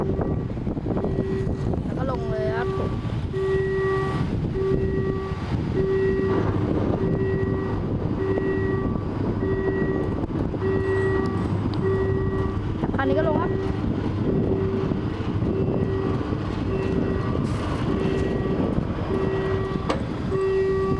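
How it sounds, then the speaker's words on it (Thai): A Thai ordinary passenger train rumbles steadily past the Ban Tha Sao level crossing in Kanchanaburi, a constant crossing warning tone ringing throughout, wind buffeting the microphone and brief voices in the background. "ขบวนรถธรรมดาที่ 258"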